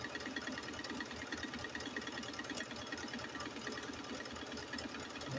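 An electric sewing machine stitching a picot hem on the bottom of a long dress, running as a steady, rapid mechanical whir with a fast rhythmic chatter, close and unbroken throughout, no voices.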